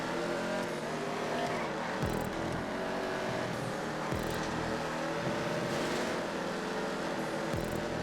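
Racing cars roar continuously in GTA 5, with a loud engine droning and shifting pitch through gear changes and a few quick downshift drops, steady and close throughout.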